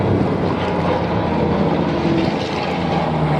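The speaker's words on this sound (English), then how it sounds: "the P40s, the silver one, is again an early version of the P40 with the Allison engine" Early Curtiss P-40 fighter with an Allison engine flying at an air show at Duxford, giving a loud, steady propeller engine roar throughout.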